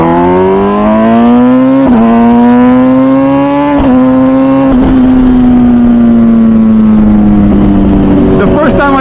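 Ducati or MV Agusta naked motorcycle engine revving up hard, a loud, close, rising harmonic whine climbing steadily through several gear-like surges, with a voice speaking over it.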